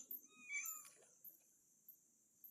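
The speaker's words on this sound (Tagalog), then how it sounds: "Ito pa yung isa oh, pusa." A cat meows at a public cemetery, one faint, drawn-out meow followed by quieter sounds, with insects chirping softly in the background.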